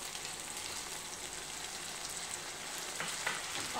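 Tomato puree from three large tomatoes with spices sizzles and fries in ginger-garlic paste in a pan, a steady, soft crackle with faint stirring scrapes.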